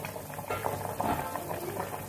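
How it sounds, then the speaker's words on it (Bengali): Catfish curry with potatoes simmering covered over a medium flame, a steady low bubbling and gentle boiling that carries on evenly throughout, heard close up with no talking. "এখন এটাকে আমি ঢাকা দিয়ে মিডিয়াম ফ্লেমে ফুটতে দেব।"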